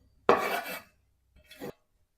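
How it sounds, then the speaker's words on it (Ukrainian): Finely chopped salad ingredients for a simple crouton-and-corn salad tipped into a bowl: a close, clattering burst, then a shorter, softer second tumble after a brief pause. "І це все відправляю до миски."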